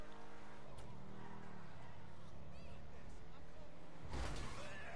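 A car engine in the video game GTA 5 revs and shifts under steady driving noise, with tire squeal and a sharp skid or crash near the end; a voice talks over it.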